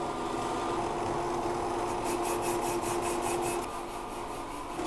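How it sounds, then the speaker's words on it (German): An engine cylinder boring machine bores a cylinder, grinding and rasping continuously at a steady level, with a rhythmic scraping pulse appearing partway through. "während die Maschine jetzt am Bohren ist"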